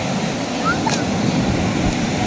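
Ocean surf at night on a beach, a dense, continuous roar of waves breaking, loud and close without pause for the whole short stretch.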